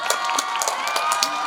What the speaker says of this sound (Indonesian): Kita berikan tepuk tangan kepada Ananda Indri